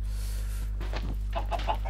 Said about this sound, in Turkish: tavuklar da var burada varmış